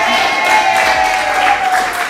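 A live audience at a mind-reading comedy show applauds a volunteer, a dense wash of clapping and crowd noise lasting throughout, close and fairly loud.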